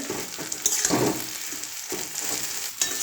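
Mashed potato is stirred into fried onions and green chillies in a hot pan, with a soft sizzle under scraping strokes of a spatula at an uneven rhythm, close and alone.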